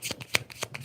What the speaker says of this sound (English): I kept shuffling.